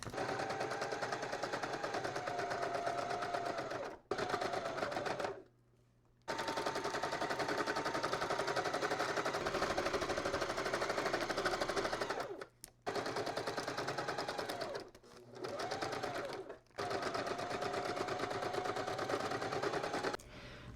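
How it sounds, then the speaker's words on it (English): A sewing machine runs a straight stitch across a garden cover, a fast, even mechanical chatter in long bursts broken by brief pauses, close and alone. "I'm going to do a straight stitch, and I think just do some interest sewing and see how that looks."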